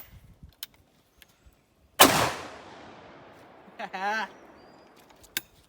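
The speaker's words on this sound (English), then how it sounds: "I'm gonna be one hand firing a 10 gauge 2-ounce load." A single loud, close blast from a 10 gauge shotgun firing a 2-ounce load one-handed, trailing off into a long echo, followed by a brief mechanical rattle and a sharp click.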